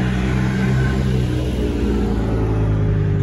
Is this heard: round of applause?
no